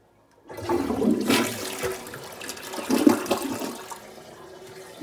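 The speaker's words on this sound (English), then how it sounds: "All right, Victor, flush it" A toilet flushes with a rushing, gurgling surge of water that swells twice and then settles into a steady draining hiss, close and alone with no talking.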